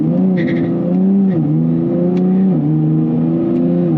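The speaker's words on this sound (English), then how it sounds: "I just want you to see how it shifts when you do the paddle shifters in the Sport Plus mode" A Nissan Z NISMO accelerating in Sport Plus mode, its engine climbing steadily in pitch, then dropping sharply at each of two quick paddle-shift gear changes before rising again, heard from inside the cabin.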